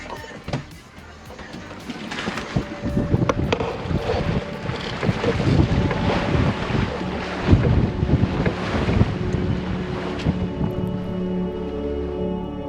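A sailboat tacking and sailing close hauled, with steady wind rumble over the microphone and water rushing along the hull, surging louder in gusts throughout.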